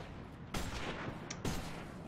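Shotgun blasts in the video game Shotgun Farmers: two sharp, fairly faint shots about a second apart over a quiet background.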